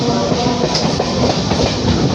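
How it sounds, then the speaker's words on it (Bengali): A Shantipur local train rolls steadily along straight track with a constant rumbling roar and faint rhythmic clatter of wheels, loud and close, with no voices. "এখন ঘোরা শেষ হয়েছে, এবারে সোজা চলছে ট্রেন।"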